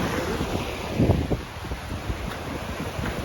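Water from a small forest waterfall streams along its channel, a steady broadband rush mixed with gusty wind buffeting the microphone throughout, no talking.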